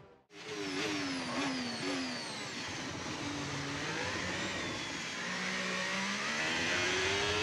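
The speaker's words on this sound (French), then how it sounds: "Et on va attaquer de suite les premiers tours de roue pour voir comment réagit la voiture." Race car on its first laps of free practice at Spa-Francorchamps, its engine roaring loud and close as it revs up through the gears with rising and falling pitch, then holding a steady high drone, with no talking.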